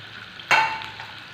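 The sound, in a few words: tomato frying in a pan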